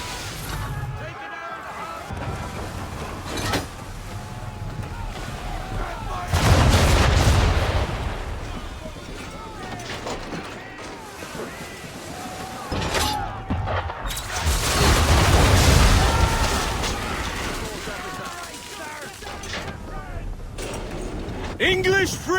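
Ship cannons boom during a naval battle in Assassin's Creed III Remastered, with several heavy blasts swelling into rolling rumbles amid game ambience, while someone speaks over the action.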